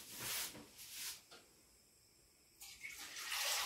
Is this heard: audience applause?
no